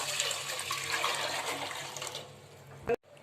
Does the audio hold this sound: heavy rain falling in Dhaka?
no